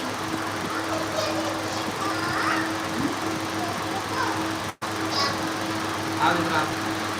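A room air cooler runs right beside the microphone, a close, steady fan whir and motor hum persisting throughout under faint talk.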